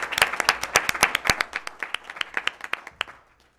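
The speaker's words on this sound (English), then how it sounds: "Let's have a round of applause for these great accomplishments." Audience applause at a board of education meeting, a burst of close, sharp hand claps that thins out and fades within a few seconds.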